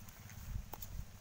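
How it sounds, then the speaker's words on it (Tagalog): Horse hooves clip-clop during a ride, a few quick, muffled thuds over rumbling wind and outdoor noise. "Napakahirap magmaniho ng kabayo kasi hindi namin kabisado yung kabayo"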